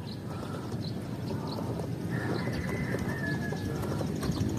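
Racing pigeons arriving home at a loft in Sariaya, Quezon, with repeated short chirps and calls over a steady outdoor background of noise and clatter; no one speaks.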